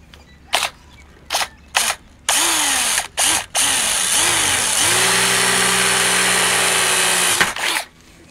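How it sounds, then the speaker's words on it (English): A power drill punches a hole through a metal clothesline tube on a caravan. Several short loud trigger bursts lead into a long, steady high whine that rises in pitch and then cuts off abruptly, loud and close. "So I'm going to punch a hole in it now and I'll show you how we do it."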